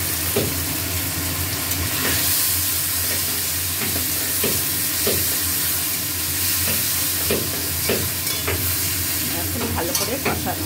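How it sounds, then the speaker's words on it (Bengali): Potato and tomato pieces sizzle loudly in a pan with added spices, salt and turmeric while a spatula stirs them in repeated scraping strokes over a continuous hissing fry. "আলু ভাজা হচ্ছে, এর সঙ্গে মশলাটাও দিয়ে দিচ্ছি"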